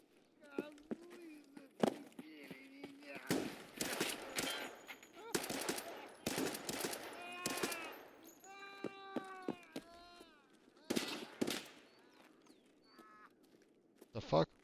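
Gunfire in the shooter game Escape from Tarkov comes as scattered loud single shots and short bursts, some near and sharp, others fainter, with an excited voice talking between and over them.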